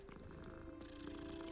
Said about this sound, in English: You guys already know I'm gonna stop to pet every cat I see.